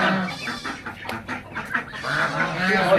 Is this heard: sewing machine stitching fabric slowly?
no